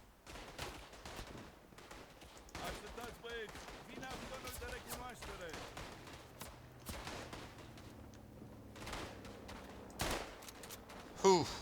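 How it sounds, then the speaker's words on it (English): Gunfire in the WWI shooter Tannenberg: scattered rifle shots and bursts crack at varying distances through a busy battlefield, with a sharp loud shot near the end and a voice speaking over the action. "Bit of flanking fire."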